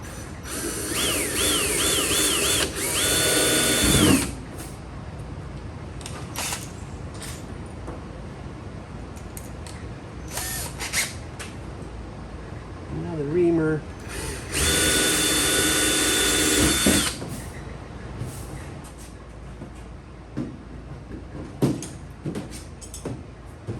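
An air drill bores number 40 holes in an aircraft wing, sounding in two loud whining bursts with rattling, clicking handling noises between them.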